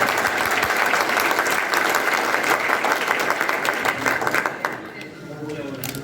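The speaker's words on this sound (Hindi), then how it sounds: "जोरदार तालियों के साथ स्वागत करें।" Audience applause welcoming a guest at a poetry book launch event in Noida, a dense, steady round of clapping from a large crowd that carries on for several seconds and then begins to thin out toward the end.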